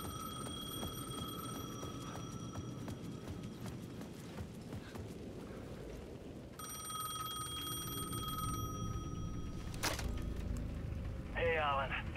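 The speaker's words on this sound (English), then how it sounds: "The payphone at the edge of the plaza was ringing again." A payphone bell in Alan Wake 2 rings in bursts at the edge of a plaza over a dense, steady layer of game ambience, with a faint voice underneath.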